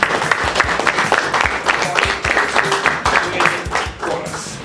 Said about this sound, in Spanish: vamos a recibir con fuertes votos de aplausos